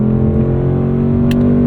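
Engine of a 2024 Ford Mustang Dark Horse (S650) heard from inside while driving through gear shifts, a steady loud low droning rumble with a faint brief click near the end, no talking.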